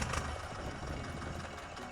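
Tractor engine idling in the farming video game Farming Simulator 2013: a steady, continuous low mechanical hum at moderate level, heard alone without talk.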